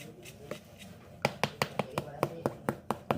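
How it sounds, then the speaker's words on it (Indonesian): A hammer tapping glued high-heel shoe parts flat, about a dozen sharp, close knocks in a quick, fairly even rhythm after a couple of softer early taps. "kita langsung diketuk-ketuk saja dengan palu"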